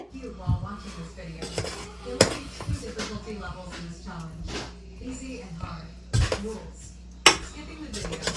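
A dum-sealed biryani pot is opened with metallic clanks and scraping of the lid and utensils, sharp irregular knocks over a busy kitchen with a voice talking.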